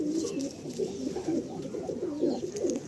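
A Madrasi baby pigeon coos in soft repeated throaty bursts at close range. The calls fall in a loose rhythm over a quiet loft background.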